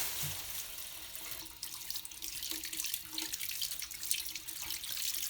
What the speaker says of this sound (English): Again, just rinse until it runs pretty clear.